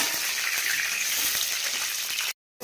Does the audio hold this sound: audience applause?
no